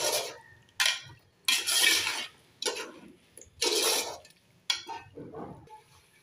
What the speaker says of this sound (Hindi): इसको अच्छे से मिक्स कर लें इस मसाले के अंदर